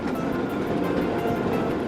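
The Jakarta-Bandung high-speed train runs on a trial journey, a loud, steady rolling roar of rail travel with faint rhythmic clicks of wheels over the track.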